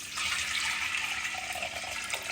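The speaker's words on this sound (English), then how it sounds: "pour some water into it" Water poured into a cooking pot holding red kidney beans and garlic for Jamaican-style beans, a steady, quiet, continuous pouring stream with no one talking.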